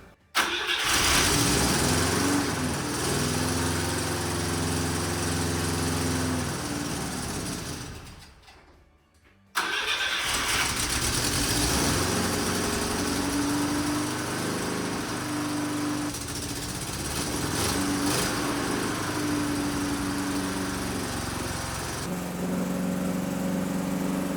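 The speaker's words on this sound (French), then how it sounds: "mon but, ça va être de la faire tourner plus de 30 secondes, d'essayer de stabiliser ce ralenti là" A Citroën GSA engine cranks and fires, then runs at a high, uneven idle. It cuts out briefly and restarts into a steady, near running drone with small shifts in pitch.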